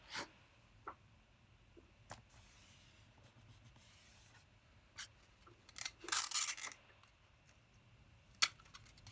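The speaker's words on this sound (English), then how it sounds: "So as you can see here, I'm just taping it to the Gator board." Watercolor paper being taped down to a Gator board, with scattered soft rubbing and scraping noises, a few sharp tape tears and a louder burst of crinkling near the end, all fairly close and quiet with no talking.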